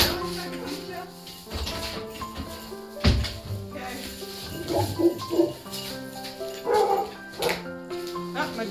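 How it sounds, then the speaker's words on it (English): A farm dog barks outdoors in bitter cold, around minus twenty degrees Fahrenheit, with several irregular barks at moderate distance mixed with people talking nearby. "My dog's barking at something?"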